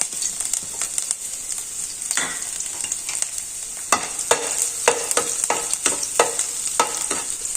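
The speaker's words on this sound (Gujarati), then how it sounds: "હવે તેલ આ રીતે થોડું ગરમ થાય એટલે આદુ મરચાં અને લસણ સૌ પ્રથમ આપણે એડ કરીશું સાતળી લેશું" Ginger, chillies and garlic sauté in a couple of spoonfuls of hot oil, a close, bright sizzle broken by frequent spoon scrapes and clacks against the pan.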